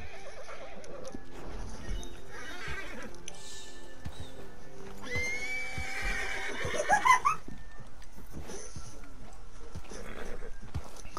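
A horse neighs in Red Dead Online, a rising whinny cutting through hoofbeats and game ambience, while players chat over voice in the background.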